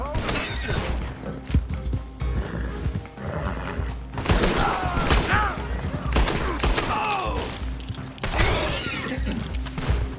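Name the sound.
gunfire in video game Red Dead Redemption 2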